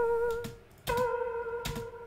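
An ethnic one-shot melodic sample drenched in ambience reverb, sounding as a few sustained tonal notes struck with soft percussive attacks, alone and moderately quiet.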